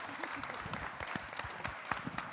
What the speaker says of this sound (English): Clap your hands for her as she comes to the stage.